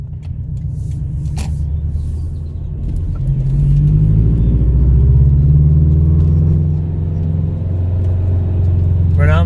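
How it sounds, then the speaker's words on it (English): Deep, steady drone of an FRS engine with a silencer heard from inside the cabin while driving, swelling as revs climb and then easing off, with a brief voice near the end. "I'm gonna go ahead and start up the car and see how that sounds"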